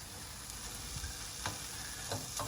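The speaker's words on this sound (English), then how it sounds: "And we fry this until it's beginning to go soft." Bacon fries in a pan without oil, rendering in its own fat, a close, continuous sizzle and crackle with occasional stirring scrapes.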